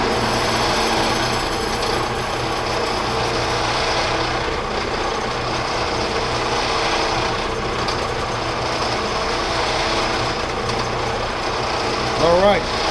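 A Powermatic Model 90 lathe turns metal at about 1000 RPM under hand feed, a loud, continuous mechanical whir and ratcheting chatter of the cutting tool, with a brief burst near the end.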